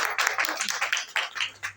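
A crowd at a Jamaat-e-Islami political gathering gives brief, uneven bursts of clapping, fairly quiet and short-lived.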